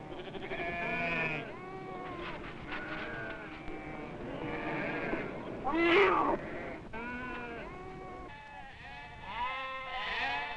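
A small flock of sheep tended by a Navajo family in the American Southwest bleats repeatedly, several overlapping wavering calls at moderate distance with no talk.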